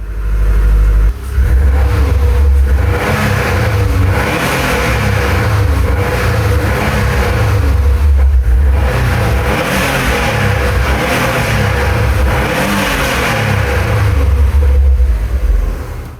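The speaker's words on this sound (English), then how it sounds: "The Subaru Turbo Boxer filling the space with that unmistakable sound." A Subaru WRX's EJ25 turbocharged boxer engine revs repeatedly nearby, loud rising and falling bursts of throttle after a brief dip at the start, echoing in an enclosed space without speech.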